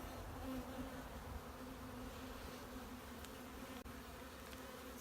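Honey bees buzzing around an open hive during an inspection, a steady close drone with a faint tonal hum and one brief click, heard alone and fairly quiet.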